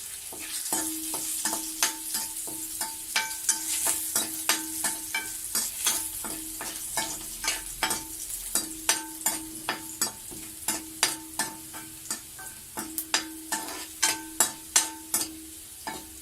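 Ginger pieces and garlic frying in a pan for chilli chicken, a close continuous sizzle punctuated by a long, steady series of rhythmic scraping and tapping stirs against the pan, with no talking.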